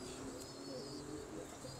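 Pigeons softly cooing in a loft, low, faint murmuring coos carried over a steady background hum, with no other voices.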